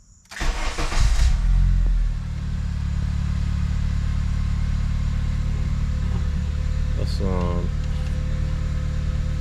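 A Honda Civic engine cranks and fires up with a loud burst, then settles into a steady idle. A brief voice is heard partway through.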